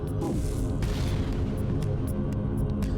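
A rat bomb fires in FTL Multiverse, giving a deep booming throb over a steady low hum, with a brief sweeping tone near the start and sharp little clicks scattered throughout.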